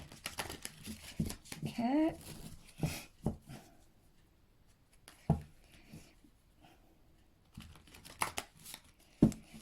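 Chakra oracle cards shuffled by hand, scattered papery swishes and card slaps at irregular moments, close and soft, with a brief spoken word.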